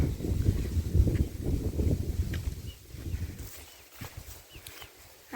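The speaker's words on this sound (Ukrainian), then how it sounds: "Ой, як вітер дує сильно." Strong wind roars and buffets the microphone in heavy low rumbling gusts that ease off toward the end, with faint scattered background sounds.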